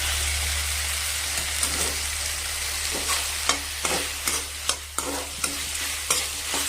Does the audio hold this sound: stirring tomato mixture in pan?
yes